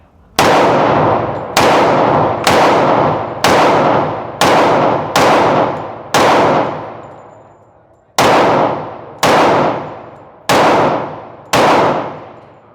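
Ten loud, sharp gunshots from an M&P 10mm pistol, fired singly at a steady pace of roughly one per second with a pause after the seventh, each crack followed by a ringing outdoor echo tail.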